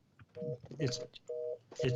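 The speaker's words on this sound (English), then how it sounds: "That's just my phone call" A telephone rings with repeated electronic tone bursts in short, evenly spaced pulses that sound close and clear, with brief gaps of room sound between them.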